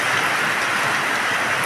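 Steady rain falls during the rainy season, a dense, even hiss that holds at the same level from start to finish, with no voices or other sounds breaking through.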